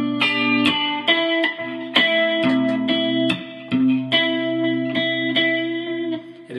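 Slow electric guitar arpeggios of the chorus of a song, clean ringing notes picked one after another over sustained low chord tones, close and steady.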